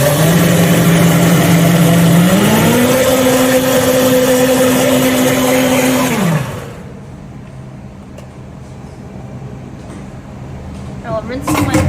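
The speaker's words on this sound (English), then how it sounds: "And now I will blend it." A countertop blender whirs loudly while blending a Starbucks Frappuccino made with mocha pumps and whole milk, its motor stepping up to a higher pitch partway through before cutting off abruptly, leaving quiet room tone.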